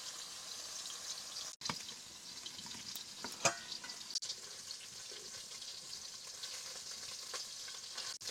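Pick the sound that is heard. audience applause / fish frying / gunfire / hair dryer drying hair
fish frying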